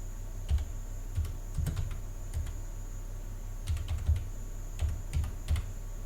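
Typing on a computer keyboard, soft clustered keystrokes in irregular bursts with short pauses, close and fairly quiet over a faint steady electrical hum.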